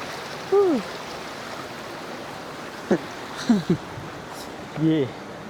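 A mountain river flows under a broken bridge near Thal Bazar in Upper Dir, Pakistan, making a steady broadband rush of water heard throughout, with brief voices speaking over it.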